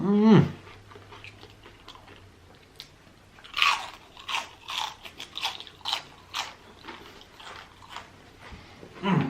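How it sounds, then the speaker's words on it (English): Crunchy fried onion rings, eaten with chili cheese fries, are bitten and chewed up close, a loud crisp crunch followed by a run of rhythmic crackling chews, with a brief voice sound at the start and end. "Did y'all hear the crunch? That is what an onion ring is supposed to sound like when you bite into it"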